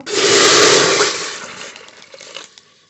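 Water is poured into a pressure cooker holding small potatoes: a loud rushing splash at first that gradually tapers off, with a few small knocks near the end.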